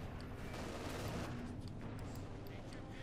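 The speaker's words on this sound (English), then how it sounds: "Grenade going off, almost wiping out." Grenade blasts and gunfire fill a Company of Heroes 2 battle, a dense, continuous roar of explosions and shooting at steady loudness throughout, with a voice talking over it.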